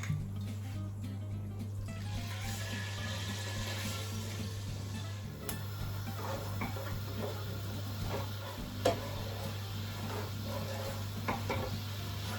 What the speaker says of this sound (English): I'm gonna glaze the pan with some sherry to make a nice sauce